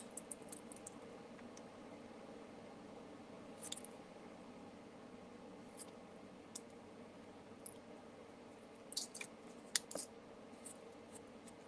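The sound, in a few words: trimming paper card with scissors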